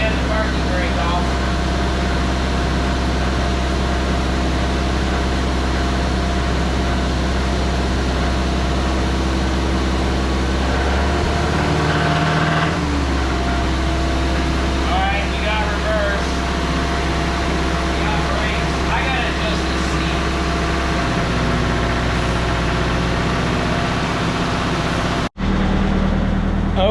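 A 1986 Mazda B2000 minitruck engine idles steadily and close by for the whole stretch, a low constant drone with a slight shift midway, ending in a sharp click.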